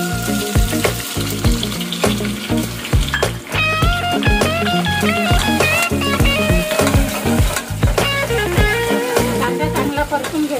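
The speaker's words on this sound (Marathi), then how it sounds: "कांदा चांगला परतून घेऊया।" Onion sizzles and fries in a pan alongside bay leaf, cinnamon, cloves and black pepper, a steady crackle broken by rhythmic stirring scrapes, close and continuous.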